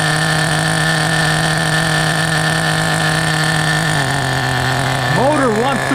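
The OS Max 15CB nitro engine of a Team Associated RC10GT radio-controlled car idles close by with a steady, loud buzzing drone that drops slightly in pitch as the idle is lowered, then briefly wavers.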